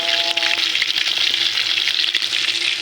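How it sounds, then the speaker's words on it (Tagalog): Fish fries in a hot pan with a loud, continuous crackling sizzle and scattered pops close up, joined by a brief faint tone near the start. "nagpiprito rin po ako ng isda"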